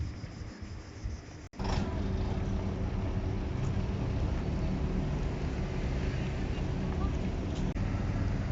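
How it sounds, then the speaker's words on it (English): A ferry approaches in a harbour on Kefalonia, its engine giving a steady low rumble with wind and water noise throughout, after a short sharp knock near the start. "So here comes ferry number 3."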